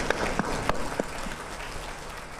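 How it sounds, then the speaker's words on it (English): A summit audience applauds, a thick, steady wash of many clapping hands with a few sharper claps standing out early before the sound settles into an even hiss. "let's start by giving ourselves a round of applause."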